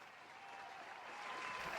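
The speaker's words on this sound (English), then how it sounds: "Let me hit the round of applause like you asked." A round-of-applause sound effect plays on a podcast, a short burst of crowd clapping that sounds faint and distant and swells slightly toward the end.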